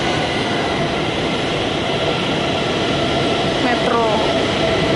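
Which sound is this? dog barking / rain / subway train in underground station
subway train in underground station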